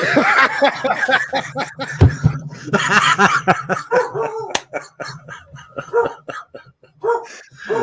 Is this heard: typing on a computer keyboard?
no